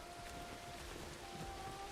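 Rain falls in the survival game Bellwright, a faint, continuous wash of soft patter with a thin steady tone running beneath it and no voices.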